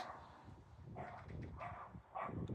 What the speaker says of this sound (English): excuse the barking lunatic dog next door